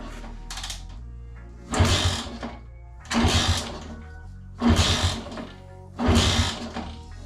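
A rare Honda motorcycle, still leaking fuel, is cranked in four rhythmic mechanical bursts about a second and a half apart, each whirring briefly and then stopping, with no steady idle following.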